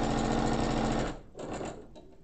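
A domestic sewing machine chain-piecing quilt block patches, running in a steady rapid whir for about a second, then stopping and briefly restarting in short, quieter bursts.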